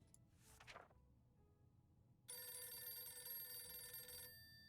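A telephone rings in the video game 60 Seconds! Reatomized, a steady bright electronic bell trill lasting about two seconds after a brief swish, clear and alone with no talk.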